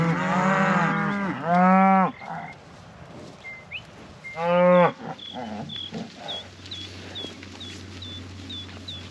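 Cattle moo loudly on a farm pasture, two long drawn-out bellows with rising and falling pitch, as cows and calves call across a fence; faint chirps and clucks of fowl and softer moos follow.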